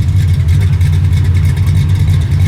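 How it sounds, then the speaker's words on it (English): A Monte Carlo SS or similar G-body car engine roars steadily at high revs, a loud, continuous, deep rumble held on a tire with no pause. "And this thing sounds crazy too. Monte Carlo SS on a tire."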